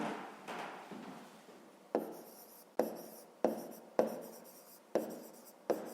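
Handwriting for a fifth-grade maths exercise, with close, scratchy pen strokes and sharp tick-like marks, repeating in short bursts with brief pauses and no talking.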